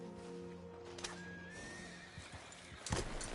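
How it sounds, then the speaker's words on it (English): In a Western-themed video game, a horse gives a loud whinny over faint background music, and clip-clopping hooves come in near the end, fairly close and moderately loud. "Hey! My horse!"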